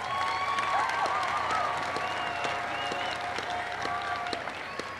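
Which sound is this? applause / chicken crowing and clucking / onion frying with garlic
applause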